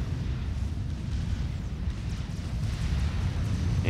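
Artillery fire in the real-time strategy game Forged Alliance Forever, a steady low rumble of distant shelling and muffled booms pounding Tech 3 mass extractors.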